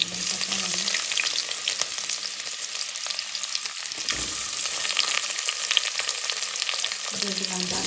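Vegetables hitting hot oil for noodles, a loud, continuous sizzle and crackle close up with occasional stirring, no one speaking.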